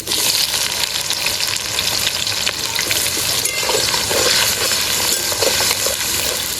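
Onions sizzle and fry steadily in hot oil in a pan with bay leaf, cumin and dried chillies, a loud continuous crackling hiss with occasional stirring, while desi chicken curry is being cooked.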